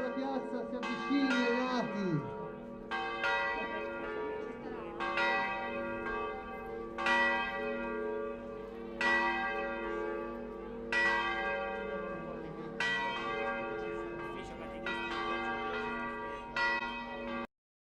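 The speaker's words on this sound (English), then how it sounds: "part of that was the playing of church bells" Church bells played at a peace rally for Ukraine in a city centre ring out in a sequence of about ten resonant strikes, each sustaining and overlapping, moderately distant.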